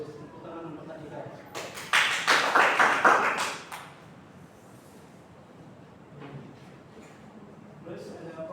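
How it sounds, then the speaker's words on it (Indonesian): A classroom of students claps in a short burst of about two seconds, sharp slaps close and moderately loud, then quiet room sound with faint talk. "tepuk tangan untuk tadi kan"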